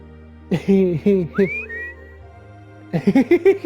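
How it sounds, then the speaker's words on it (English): A cartoonish rising whistle from a character in the video game Trails of Cold Steel, two short upward swoops in the middle, set between bursts of game-style vocal blips and a steady low background hum. "Innocent whistle."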